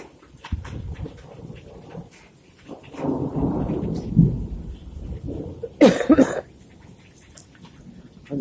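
Thunder from a springtime thunderstorm rolls as a low, drawn-out rumble heard from indoors, swelling for a few seconds, with a sharp cough-like burst near the end and quiet rain-like hiss around it.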